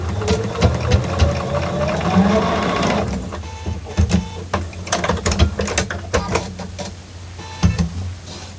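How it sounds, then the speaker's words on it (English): A sewing machine stitches a quarter-inch seam on a half-square-triangle quilt block, its needle running in quick mechanical bursts close by, with short pauses between runs. "So we are going to sew on 1/4 of an inch."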